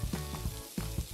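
Sausages sizzle on a grill in a short, steady crackle of frying, heard close and fairly loud in a brief snippet with no talk.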